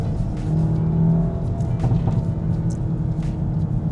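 A VW Golf GTI MK8 engine runs hard at high revs while driving, a steady deep drone with a droning whir on top, close and loud, with no one talking.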